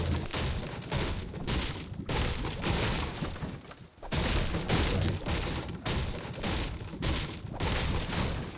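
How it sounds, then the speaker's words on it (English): Rapid, loud gunfire from a machine gun in the video game Fortnite, a dense continuous rattle of bursts broken by brief pauses, with no talk over it. "Oh, a machine gun, that's cool."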